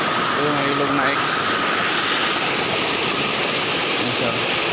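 River water rushes in a broad steady wash, loud and continuous, while a person talks briefly near the start.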